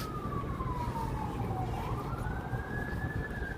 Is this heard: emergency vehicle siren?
yes